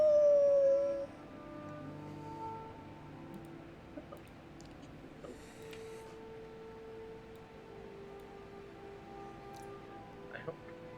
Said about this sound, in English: you hear a howl